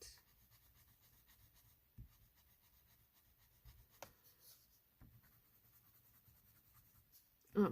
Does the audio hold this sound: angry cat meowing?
no